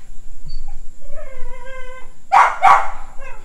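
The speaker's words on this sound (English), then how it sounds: "That one back there, that's why she's barking." A dog whines in a rising, wavering tone, then gives two sharp barks close by, with no talk over it.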